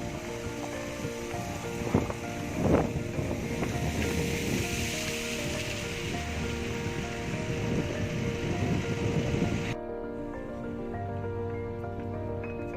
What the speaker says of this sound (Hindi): ये डबरानी वाटरफॉल है। गगनानी के बाद डबरानी वाटरफॉल पड़ता है।